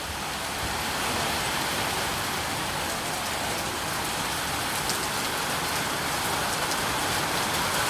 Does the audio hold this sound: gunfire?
no